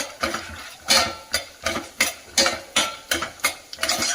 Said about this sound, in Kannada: ಉದ್ದಿನಬೇಳೆ 2 ಸ್ಪೂನ್, ಕಡಲೆಬೇಳೆ, ಒಂದು ಸ್ವಲ್ಪ ಶೇಂಗಾ ಬೀಜ ಹಾಕ್ಬಿಟ್ಟು ಚೆನ್ನಾಗಿ ಫ್ರೈ ಮಾಡ್ಕೊಳ್ಳೋಣ